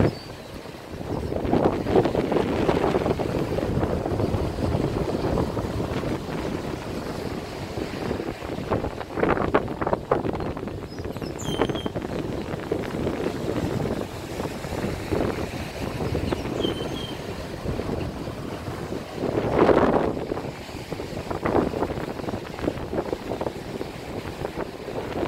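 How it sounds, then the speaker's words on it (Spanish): Strong wind buffets the microphone at a resort beach after a cold front, with heavy, rough surf rolling underneath in a continuous roar that swells and ebbs. "El tiempo no está bueno, ha habido un frente frío, hay mucho oleaje, por lo que lleva a que quizás el sonido no se escuche bien"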